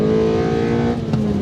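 A 1992 Honda Integra XSi with its 160-horsepower VTEC engine is wound out while driving, giving a loud, steady, high-pitched engine drone heard up close and alone.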